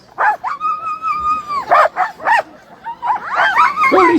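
Sled dogs at a race start line yip, whine and bark in repeated excited bursts, fairly close and loud, with a long high whimper and overlapping calls from several dogs.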